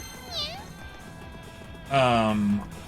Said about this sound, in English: I don't recall any other time that Celine meows like that